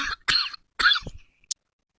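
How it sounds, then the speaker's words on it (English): A mild coughing fit: three or four harsh, close coughs in quick succession, the last a short throat-clearing catch, then quiet. "I had a mild coughing fit."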